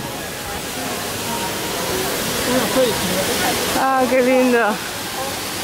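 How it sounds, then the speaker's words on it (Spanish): Waterfalls at Universal Studios Orlando give off a steady, broad rushing roar nearby, while visitors chat over the constant water noise. "Mira las cascadas esas."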